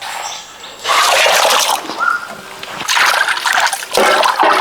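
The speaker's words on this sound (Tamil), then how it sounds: "நல்லா தேய்ச்சி கழுவுண்ணா" Fish washed by hand in turmeric water, with bursts of splashing and sloshing that come and go in close, loud rounds, plus trickling drips between them.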